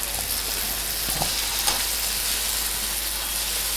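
Tomatoes fry in hot oil in a pan of prawn thokku, giving a steady close sizzle with a few soft stirring clinks, and no talking.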